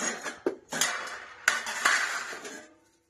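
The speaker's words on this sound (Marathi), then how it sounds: "आता भांडी भरून घेते" Metal kitchen pots and vessels clank and knock as they are handled and filled with water, with several sharp clatters over a running, splashing wash that fades out at the end.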